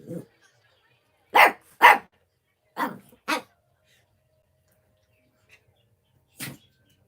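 Dogs bark in short separate bursts, a single woof, then pairs of loud close barks with silent gaps, and a last bark after a pause.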